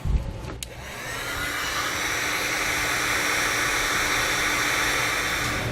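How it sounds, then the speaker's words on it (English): A heat gun blows a steady, airy hiss while shrinking heat shrink tubing over trailer light wiring, starting after a brief click and handling noise and holding an even rushing tone close by. "We'll take our heat gun and heat up this heat shrink to get it shrunk down."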